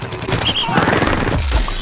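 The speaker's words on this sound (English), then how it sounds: "Here he is combining the football cannon with his powerful sprint tackle attack" A football cannon in Plants vs Zombies Garden Warfare firing a dense, loud burst of rapid shots that runs for under two seconds amid game noise.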